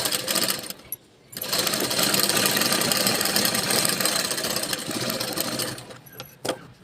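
A sewing machine runs steadily for several seconds, stitching the lining of a blouse, with a short pause near the start before the motor hums on at close range.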